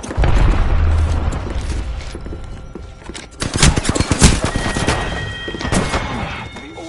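Grenade blast and gunfire in the battle game Apex Legends, a dense barrage of sharp bursts with a heavy low boom near the middle, rapid shots following, loud and close with no talk.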